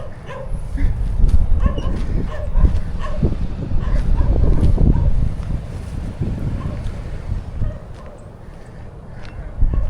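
Dogs bark and yip on a windy beach, with repeated barks over steady wind rumble and surf-like noise; a few loud close barks stand out near the end.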